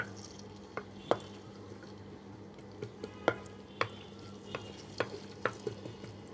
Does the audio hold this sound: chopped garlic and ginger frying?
yes